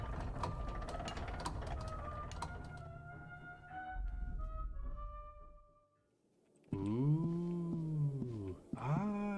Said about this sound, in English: How fast does this elevator move?